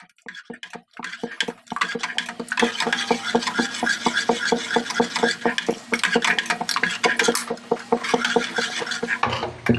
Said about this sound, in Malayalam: ഇങ്ങനെ ഇളക്കിക്കൊണ്ടിരിക്കണം, അല്ലെങ്കിൽ അങ്ങ് തിളച്ചു പോകും